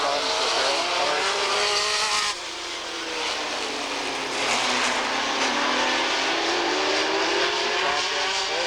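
Super stock race cars at Redwood Empire Raceway roar around the track while warming up, engines droning loudly with rising and falling pitch as they pass, a brief dip midway, then building again.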